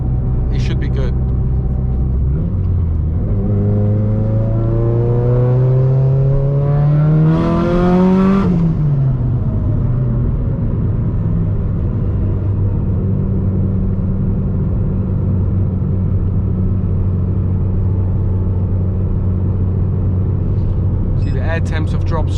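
A Nissan S15 on low boost with a methanol spray system drives along, its engine note climbing steadily through the gears, then dropping with a whoosh before settling into a loud, even cruising drone heard from inside the car.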